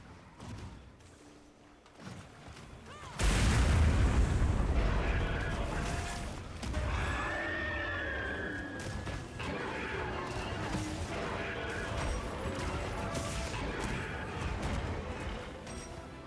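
A bomb detonates with a sudden loud boom in Monster Hunter Wilds, followed by a long rumbling roar of debris and creature noise that stays strong for many seconds.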